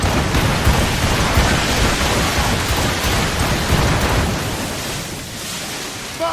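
A stormy sea in Assassin's Creed Rogue: loud, steady broadband roar of wind, rain and crashing surf that fills the whole stretch, easing slightly toward the end, with no voices.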